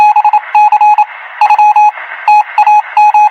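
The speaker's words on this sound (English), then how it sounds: "let us assume this is the sound of a bell" An electronic bell-like message tone plays in rapid repeated beeping bursts in an irregular pattern, loud and clear over a buzzy electronic background, with no talking.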